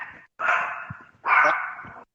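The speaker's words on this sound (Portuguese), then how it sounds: "tá pegando o latido do cachorro aqui do vizinho que tá passando aqui na frente da porta" A neighbour's dog passing by outside the front door gives two long, harsh barking howls separated by a short gap, loud and fairly close, with no talk over them.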